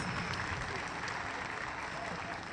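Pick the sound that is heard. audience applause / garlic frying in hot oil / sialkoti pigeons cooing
audience applause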